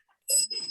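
A single bright bicycle-style bell struck by a trained cat, one sharp close ring with a quick decay and a short metallic rattle after it.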